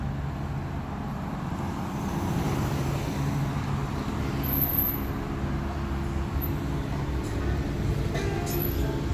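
Metro train passing between Lionel-Groulx and Georges Vanier stations in Montreal: a steady, fairly loud rumble with a continuous low roar and faint high squeals, heard from nearby without talk.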